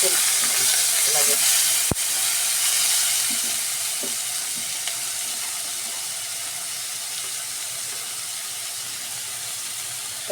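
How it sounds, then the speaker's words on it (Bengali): Garlic paste fries in hot oil for a raw mango curry, a steady sizzling hiss with a sharp click near the start, the sizzle easing slightly toward the end. "এখন দিয়ে দিব বাটা রসুন।"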